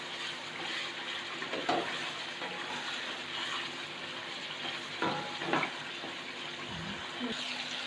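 Chicken frying in masala in a pan, a low steady sizzle with a few soft stirring scrapes, fairly quiet and even throughout.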